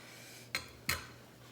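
A spatula flips naan in a pan, two quick metallic clinks about a third of a second apart, close and clear over a faint background hum.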